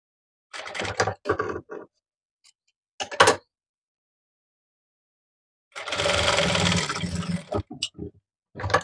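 Sewing machine stitching a hook strip onto a V-neck blouse, running in several short, loud bursts separated by quiet pauses, with a longer steady run near the end and no talking.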